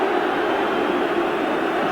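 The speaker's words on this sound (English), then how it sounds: "It's sad to hear John Fashanu being booed." A football crowd at the 1988/89 Scotland v England Rous Cup match boos John Fashanu, a steady, dense roar of voices holding without a break.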